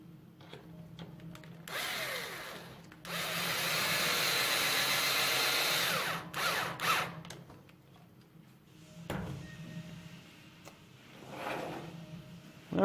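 A power tool drives supplied cap head screws that mount the turnbuckle to a 2018 V3 TBR snow ski block on a Traxxas RC car, giving a few sustained whirring runs with quieter handling noises between, close and with no talk.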